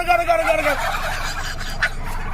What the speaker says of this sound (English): They all start gobbling at once, like a sudden chorus of bird alarms.